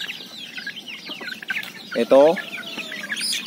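Labuyo junglefowl hens and chicks cluck and peep close by in a backyard pen, a scattered run of soft clucks and chirps with one louder burst midway, someone speaking briefly over them.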